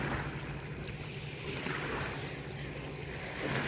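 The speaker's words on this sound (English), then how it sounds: "you can hear the water washing up on the beach" Water washes continuously up onto a beach beside a pier by a river, a soft, steady broadband wash with light wind noise and no voices.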